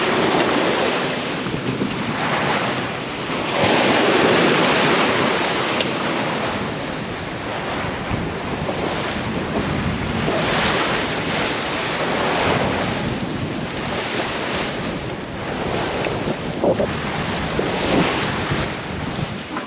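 Ocean waves and wind aboard a sailboat offshore, making about 6.5 knots in bumpy, rolling seas: a continuous rush of surf and wind buffeting the microphone, swelling and easing in broad surges with no voices.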